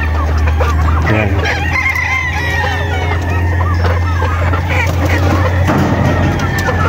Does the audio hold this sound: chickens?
yes